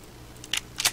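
A gun reloads in the Roblox Black Ops 3 Tycoon game as a few quick, faint mechanical clicks. Two small snaps stand out near the end over a quiet background.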